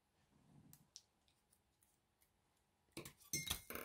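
A few faint snips early on, then a louder burst of crisp scissor cuts through paper near the end, close and without speech.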